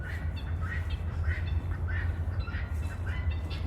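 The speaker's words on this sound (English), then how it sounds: "think I hear the birds maybe over at the neighbors a little bit" Faint, distant birds chirp in short repeated bursts from a neighboring yard, heard over a steady low rumble outdoors.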